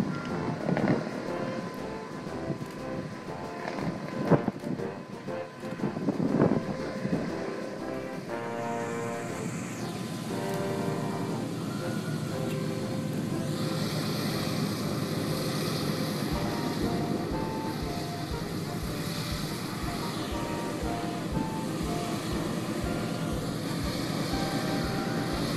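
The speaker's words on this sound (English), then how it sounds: "The B-17, perhaps the most storied and recognized bomber of World War II, is now taxiing down the runway" A World War II B-17 bomber taxiing along a runway, a steady droning roar of its piston engines and propellers that holds evenly throughout at a moderate distance, with no voices.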